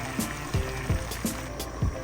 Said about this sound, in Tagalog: dadagdagan nyo po ng konting tubig